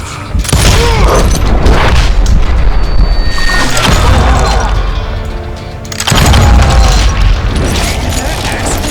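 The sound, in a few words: dynamite explosion in the video game Call of Juarez: Gunslinger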